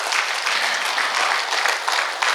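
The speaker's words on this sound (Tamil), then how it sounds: "நீங்கள் கைத்தட்டணும் இதுக்கு" Sustained audience applause at a Tamil rain-themed talk, a dense, steady wash of many hands clapping at close range for the whole stretch, with no voices above it.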